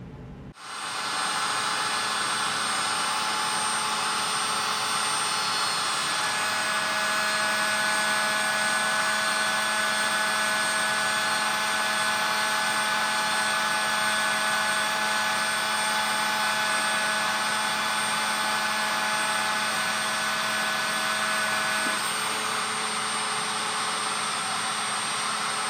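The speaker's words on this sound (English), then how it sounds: "That was a test cut with the larger 6mm thread mill that I ground, and it cuts actually beautiful." A ground 6mm thread mill making a test cut on a manual lathe, a steady loud whine with sustained tonal lines that holds unbroken for the whole stretch, with a slight change in pitch partway through and no voices.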